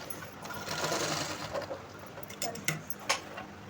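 A sewing machine stitches a blouse, running a steady soft mechanical whir up close with a few faint clicks and taps toward the end, no voices.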